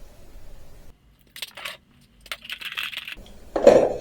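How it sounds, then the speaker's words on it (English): Spade drill bits clinking as they are handled, a few light metallic jingles and clatters in short clusters, close and quiet, ending with a slightly louder clink. "I got a bunch of spade drill bits."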